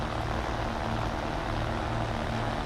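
A steady, loud propeller engine drone from an army plane in the War Thunder video game, a continuous low hum running throughout with no pauses.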